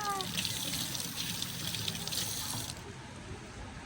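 Steady running water, like a tap or stream flowing, continues throughout at Budhanilkantha temple, with a faint voice in the background and a slight drop near the end.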